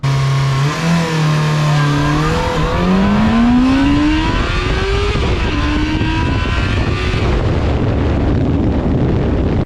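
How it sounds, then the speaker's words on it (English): A Yamaha FZ6 motorcycle launches hard from about 4,000 rpm, its engine screaming upward through the revs with a rising pitch, a shift dip, then a sustained loud roar close up. "really aggressively letting the rest of the clutch out and getting on throttle"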